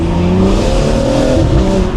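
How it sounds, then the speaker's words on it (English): A BMW M235i with a sports cat roars close and very loud under hard acceleration, a continuous rising engine and exhaust drone with the turbo coming in. There is no talking, and the exhaust pops are not clearly separable. "We had a little overrun noise as well there. You can actually hear when the turbo kicks in now."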